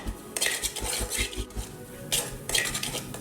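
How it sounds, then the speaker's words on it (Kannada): Spices dry roasting in a pan for country-style chicken sambar, stirred with a metal spoon that clinks and scrapes against the pan in bursts over a faint crackle, close and alone. "ಇಷ್ಟು ಫ್ರೈ ಮಾಡಿಕೊಂಡ್ರೆ ನೋಡಿ ಚಟಪಟ ಅಂತ ಇದೆ"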